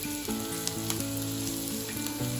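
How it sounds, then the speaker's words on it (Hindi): Green chilies and masala sizzle steadily in a pan while being stirred, a close, continuous frying hiss with occasional utensil scrapes and tonal clinks, no voices. "तो ये हरी मिर्च ये भी डाल देते हैं और सबको अच्छे से चला के भून लेते हैं"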